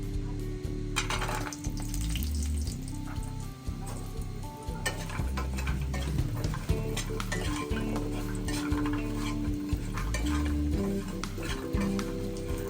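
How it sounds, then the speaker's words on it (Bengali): Mashkalai lentil dumplings (bori) fry in oil left from frying fish, topped up with a little fresh oil. A soft, continuous sizzle with occasional stirring clatter sits under a steady tonal background hum for the whole stretch. "এই বড়িগুলোকে আমরা সামান্য ভেজে নিব"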